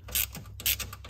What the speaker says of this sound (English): We're gonna go ahead and pull out this screw.